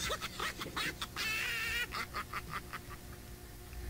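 Birds on a chicken farm call in a rapid burst of honking, quacking cries, with several loud squawks in quick succession set against a background hum.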